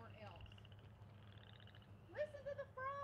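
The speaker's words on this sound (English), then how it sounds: "Listen to the frogs." Frogs calling outdoors near a tiny home site, a few short pulsed croaks and trills at moderate distance against a low background hum, with people talking briefly.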